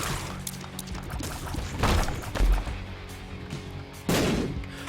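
Explosions in the video game Binding of Isaac: Rebirth, several separate thumping blasts at uneven intervals over busy game sounds, close and loud.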